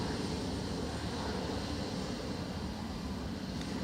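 An aircraft cleared to land on runway 28 left at Dublin Airport, heard as a steady, fairly distant engine roar with broadband rumble that holds level throughout.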